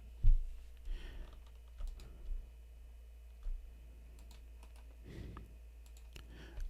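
Sparse, irregular key clicks on a computer keyboard as a password is typed, a few quiet taps spaced through a mostly still room with steady low hum underneath.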